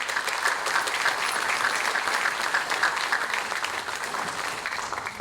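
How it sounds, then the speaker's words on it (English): An audience at a 2021 high school academic achievers ceremony gives parents a steady round of applause, dense continuous clapping at even loudness throughout, without any voices. "So let's give parents a round of applause."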